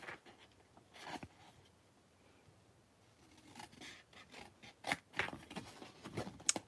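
Scissors snip the corners off scored cardstock, a few faint crisp cuts and papery rustles, close and quiet with no talk over them.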